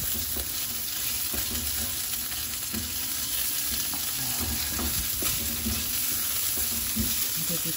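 Pork fat fries in a pan, a continuous crackling sizzle with occasional stirring clicks, close and steady with no talking.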